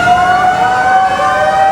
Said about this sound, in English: sirens wailed before dawn today, marking the moment the earthquake hit